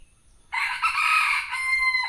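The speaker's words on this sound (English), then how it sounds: "they're crowing at each other, trying to see who is the boss man." Two roosters crowing back and forth in a fight for dominance, one loud, close, drawn-out crow ringing out alone after a moment of quiet.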